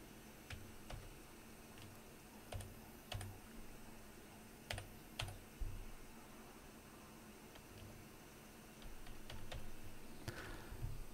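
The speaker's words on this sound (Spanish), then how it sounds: "Tecleo esto en la calculadora." Quick plastic calculator key clicks come in short irregular bursts over a faint steady hum, close and fairly quiet, with pauses between the runs of presses.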